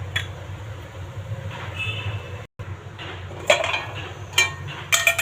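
Upma is stirred in a metal pot, and the lid is set back on: sparse metallic clinks and clatters, a few sharper knocks near the end, over faint kitchen noise.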